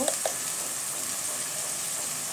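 Taro flower frying in a pan with turmeric gives a steady, close hiss and sizzle, with a couple of faint scraping stirs near the start.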